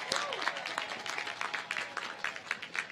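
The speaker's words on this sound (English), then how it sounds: "Let's give him a rousing round of applause" Scattered applause rises from a commencement ceremony crowd, fairly faint and uneven, with individual claps standing out in a loose rhythm across a large hall.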